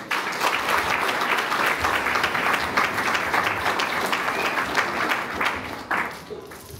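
Wedding guests at an official civil marriage ceremony applaud the couple in a loud, dense, continuous round of clapping that holds steady before tapering off near the end.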